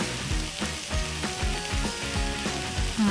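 Pork sizzling hard in a hot pan with a heavy dusting of paprika, a steady, close crackle with repeated stirring scrapes and no voices.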